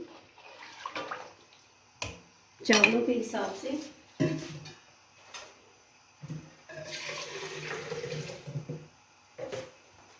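Just over 1.5 litres of water splashes and gurgles into a pot for chicken yakhni pulao in several close pours, with someone speaking Hindi between them.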